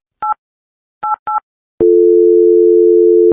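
A telephone redialing a number gives three short two-tone beeps, then a long continuous dial tone that holds steady to the end, clear and close with no voices.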